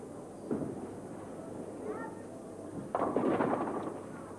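A bowling ball strikes the pins in a televised 1987 Goldpin Classic ladies' match, one soft knock early then a louder scattered clatter near the end, heard at a distance beneath a commentator's voice.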